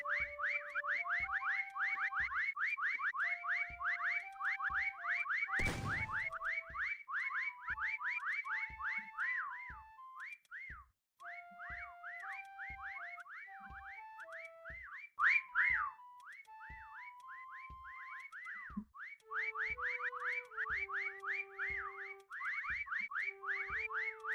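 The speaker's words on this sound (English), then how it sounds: "these whistles are getting annoying" Players in the video game Meccha Chameleon whistle constantly, short rising and falling tones overlapping in a dense, steady chorus over a rhythmic game music beat, with one loud burst near the start.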